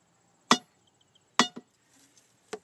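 A new knife chops into extremely hard, unsplit wood, giving four sharp, separate knocks spaced irregularly over a quiet background.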